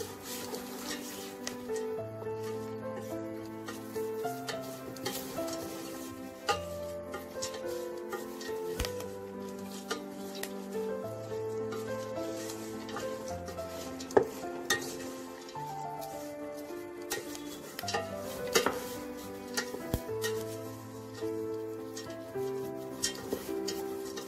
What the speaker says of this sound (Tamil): இப்போது வெறுக்கடலை இதில் ஆட் பண்ணி கிறிஸ்பியாக வர வரைக்கும் ஃப்ரை பண்ணிக்கலாம்.